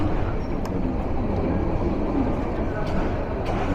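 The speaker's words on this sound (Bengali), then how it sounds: "আমাদের ট্রেন প্রবেশ করছে most dangerous zone Tongi railway জাংশনে।" Kishoreganj Express train running between Dhaka and Kishoreganj, heard as a steady, loud rumble with continuous low clatter filling the whole stretch, no voices.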